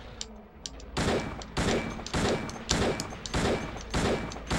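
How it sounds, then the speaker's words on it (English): Gunfire aimed at an enemy in the video game Silent Hill 2, four loud booming shots at a steady rhythm about a second apart, each with a ringing tail, set against a faint game ambience. "keep running around, taking shots at him"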